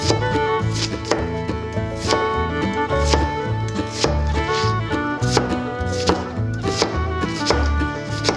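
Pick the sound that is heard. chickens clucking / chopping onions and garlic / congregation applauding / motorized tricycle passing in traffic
chopping onions and garlic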